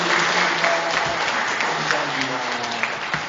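A church congregation at a revival meeting claps together, a steady, full round of applause in a large room, with a few voices under it.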